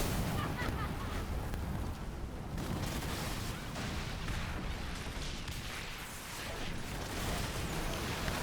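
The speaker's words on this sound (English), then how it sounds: "you do get a chance of a critical explosion" Heavy naval cannon fire and critical explosions roar through a Skull and Bones sea battle with the Thunder Dragon cannon, a dense, continuous wash of booms and crashes at loud, steady intensity with no pauses.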